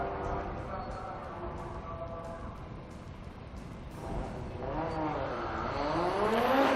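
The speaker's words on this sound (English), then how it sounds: "distinctive off-kilter 5-cylinder engine." A turbocharged five-cylinder Audi Quattro rally car in factory colours at the Estoril Classics historic race meeting, its off-beat engine note loud and continuous, rising as it accelerates toward the end, with a commentator talking over it.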